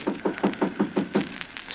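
A radio drama sound effect of knocking at a door, a rapid series of about eight solid raps in an even rhythm, close and clear with nothing else over it.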